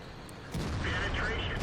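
A tank cannon fires in the video game World of Tanks, a single sharp, heavy boom that starts partway in and rolls on with a sustained rumble to the end.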